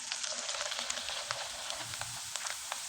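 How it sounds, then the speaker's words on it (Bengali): Pitha rice cakes frying in oil, giving a steady, close sizzle with faint crackles and small bubbling pops throughout, no voices. "এখন আমি আপনাদের কয়েকটা পিঠা ভেজে দেখিয়ে দেব।"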